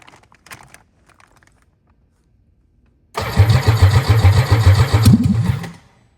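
After a fuel hose repair, an engine cranks and catches, running loud and close with a rough, pulsing idle for a couple of seconds before winding down. Faint clicks are heard beforehand.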